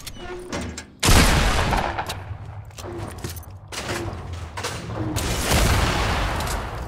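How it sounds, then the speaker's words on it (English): Video game gunfire crackles in dense, sustained bursts and booming volleys, loud and close, with rapid shots continuing throughout and no talking heard. "Keenan, we're under fire!"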